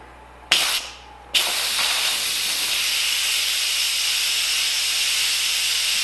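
An Instant Pot doing a quick pressure release after cooking egg roll soup with cabbage: a couple of short bursts, then a loud, steady, broadband hiss of venting steam that runs unbroken and close.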